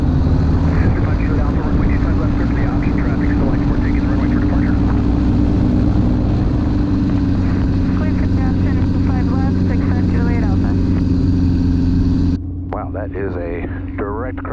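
A light propeller aircraft at full power for a takeoff on a snowy day roars loud and steady with a strong engine drone and harmonics, then drops abruptly to a lower, quieter tone near the end.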